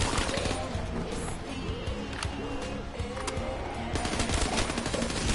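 Rapid automatic gunfire in Call of Duty Black Ops 3, dense bursts of machine-gun shots running continuously and fairly loud, with sharp cracks and a busy clattering texture throughout.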